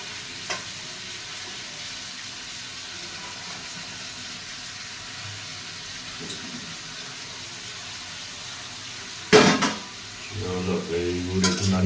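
Paneer frying in two spoons of ghee in a pan, a steady close sizzle with occasional scrapes and clinks as it is stirred, the stirring growing louder near the end.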